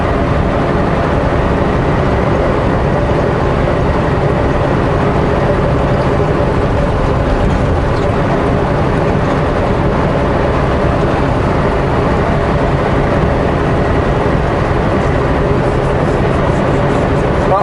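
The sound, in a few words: personal vehicle driving through a desolate place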